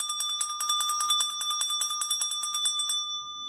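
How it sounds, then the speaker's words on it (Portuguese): A hand bell rings rapidly and steadily for about three seconds, bright repeated strikes that are close and clear, then it stops and the tone fades. "Tito, quando esse sino toca"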